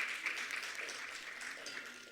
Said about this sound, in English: A round of applause for Byron.